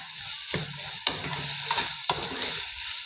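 Green peas, onion and tomato roasting in a pan, a steady soft sizzle broken by a few sharp scraping stirs of a spoon, close and alone without talk.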